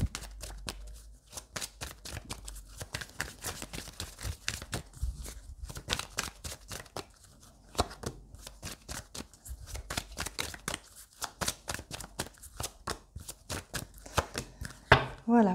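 Tarot cards are shuffled during a reading, making a long run of quick papery riffles and taps close to the microphone while someone speaks French over them.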